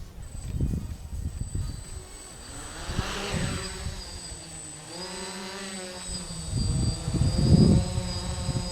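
A DJI F450 quadcopter with a 3S battery hovers outdoors in wind, its propellers giving a steady buzzing whine that rises and falls in pitch as the motors correct, heard fairly close over gusty wind noise.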